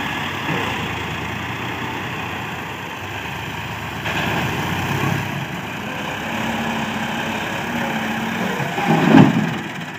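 A large, powerful tractor engine idles steadily in the open, a continuous low rumble that holds even across the whole stretch, with a brief louder knock near the end.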